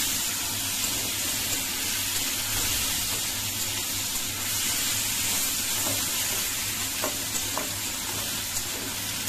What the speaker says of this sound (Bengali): এখানে এবার আলুগুলো ভেজে নিচ্ছি সেম তেলের মধ্যেই